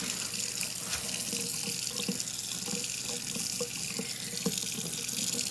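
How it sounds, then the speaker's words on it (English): A kitchen tap runs steadily into a sink, rinsing glycerin off, with a constant hiss of splashing water and small clinks and knocks from items being handled under the flow. "rinse them, give them a really good rinse, and get all that glycerin off."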